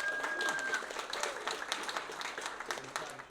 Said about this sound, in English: Please clap and cheer for the one that gets the extra point.